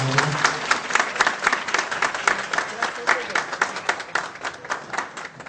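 Sustained applause from an audience at the opening of a new kebab and kadayif restaurant in Erzurum, dense steady clapping that continues throughout with a voice briefly over it at the start.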